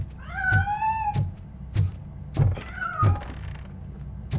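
A cat meows twice, each call a drawn-out, rising-then-falling cry, close and clear, with a few soft thumps and knocks around it and no one talking.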